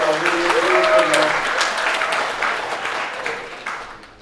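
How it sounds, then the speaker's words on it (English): Audience applause at a school Dragons' Den pitch event, a dense wash of many hands clapping fairly close and loud, with some voices and cheers mixed in, gradually tapering off. "Maybe we could applaud a little louder."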